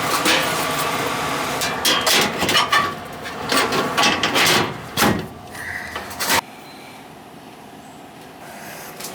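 A metal door panel on an old Armstrong furnace scrapes and clatters into place with several rattling knocks and rubbing sounds, ending in a firm clunk followed by near silence.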